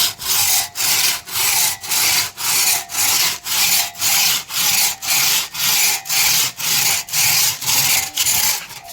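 Agarwood being hand-sawn, a loud, close rasping stroke repeated steadily back and forth about twice per second, with no talking.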